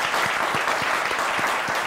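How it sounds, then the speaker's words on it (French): Dense applause from a studio audience greeting a guest on a talk show, a steady, close burst of clapping throughout. "on l'applaudit"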